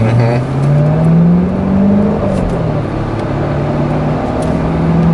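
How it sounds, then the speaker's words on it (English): Loud, deep exhaust rumble of a C7 Corvette Z51 with dual-mode exhaust valves open, revving up and settling, with rising and falling tone, close by. "Sounds glorious. Yeah, it has a dual mode exhaust, so the valves are open right now."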